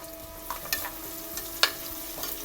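Onions frying in oil in a pan, a steady soft sizzle with a few light scrapes and clicks as a utensil stirs them, close and alone.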